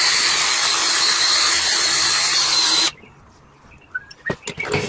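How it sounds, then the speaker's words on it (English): Wire wheel grinding rust off an old axe head, a loud steady harsh whir for about three seconds before cutting off, followed by a few short scraping knocks and clatters. "So I'm going to take a wire wheel to this"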